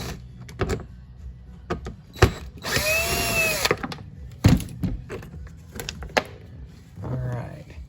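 Power driver backing out T25 screws from the forward and reverse switch on a Club Car Precedent golf cart, one short whirring burst amid clicks and handling knocks, with brief speech near the end.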